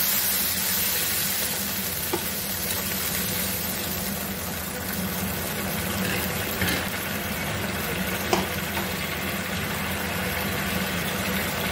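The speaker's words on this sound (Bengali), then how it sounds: "অয়েল সেপারেট হয়ে গেছে, এই টাইমটাতে আমি একটু জল অ্যাড করে দিচ্ছি।" Water meets hot, separated oil in a pan of Szechuan chicken sauce coloured with paprika, producing a loud, continuous sizzle and steamy hiss close up, with a few faint pops along the way.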